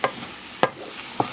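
Baby corn cooking in the same pan used for homemade fried rice, a soft steady sizzle punctuated by three sharp spatula scrapes or taps against the pan, no voices.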